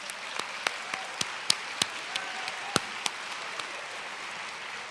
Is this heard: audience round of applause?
yes